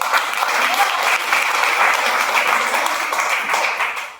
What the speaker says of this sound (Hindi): जोरदार ताली कंपनी के लिए।